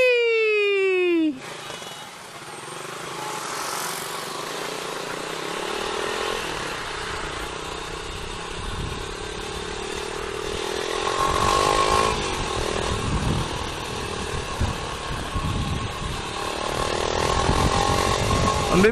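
A Rusi Classic 250 motorcycle with a loud aftermarket pipe rides along. A short falling whine opens the sound, then a raw, buzzing engine roar holds steady and swells louder as it accelerates.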